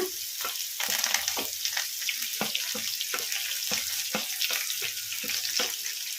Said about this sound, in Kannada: ಉಳ್ಳಾಗಡ್ಡಿ ಜಾಸ್ತಿ ಫ್ರೈ ಆಗೋದೇನು ಬೇಡ ಲೈಟ್ ಬ್ರೌನ್ ಕಲರ್ ಬರೋವರೆಗೂ ಫ್ರೈ ಮಾಡ್ಕೊಂಬಿಡೋಣ